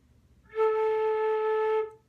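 A single sustained flute note, clear and steady with a soft attack, held for over a second before fading out.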